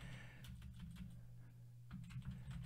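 Typing on a computer keyboard, quiet, close-up key clicks in a few loose bursts, with a steady low hum underneath and no talking.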